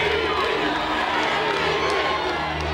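A dense crowd roars and cheers at the St. Louis Cardinals' 2006 World Series championship celebration, a loud, continuous wash of noise with a voice talking over it.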